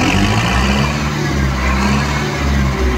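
A 2019 Kubota 4501 tractor's diesel engine revs loud and close, a heavy low drone that swells and dips slightly over three seconds.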